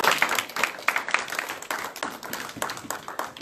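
A church congregation claps together during a Sunday service, a dense run of hand claps with uneven rhythm that stays moderately loud throughout, with faint voices beneath.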